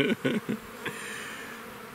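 Honey bees buzz in short bursts close by at a hive, a few quick hums in a row before fading into a low, steady background drone.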